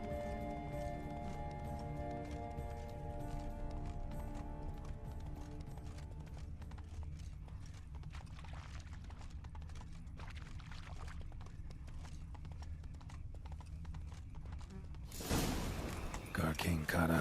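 Horse hooves clip-clopping at a gallop in The Witcher 3: Blood and Wine, a steady pounding rhythm under game music, ending in a sudden loud burst near the end.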